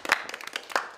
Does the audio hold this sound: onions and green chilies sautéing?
no